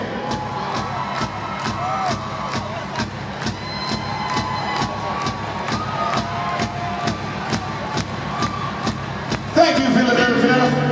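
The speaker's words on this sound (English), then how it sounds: "Feel free to clap your hands while I drink some beer." At an arena rock concert in Philadelphia's Wells Fargo Center, a big crowd claps steadily in time, with a sustained roar of cheering and shouting underneath. A louder burst of crowd noise swells near the end.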